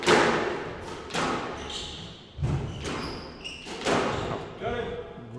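Squash ball volleyed cross court in a Premier League match, several hard thuds against walls and racket at uneven intervals, echoing in a court, with a commentator's voice over the play.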